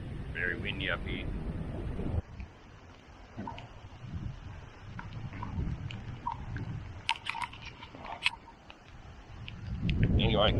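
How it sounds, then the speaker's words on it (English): Wind buffets a microphone on an exposed high lookout during a flood on the New South Wales mid north coast, a constant low rumble with gusts swelling at the end, under faint talk. "Very windy up here."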